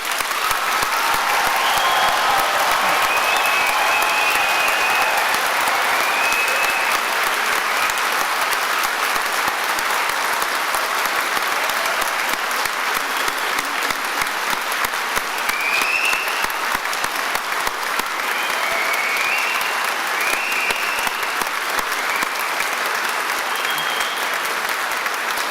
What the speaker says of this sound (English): let's start today's ceremony by giving all of these amazing graduates a huge round of applause.